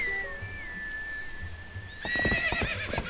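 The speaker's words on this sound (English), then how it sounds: "Good horse." A horse in the video game Zelda Twilight Princess gives a long high whinny, then snorts and clip-clops as it moves, in a clear game recording with no talking.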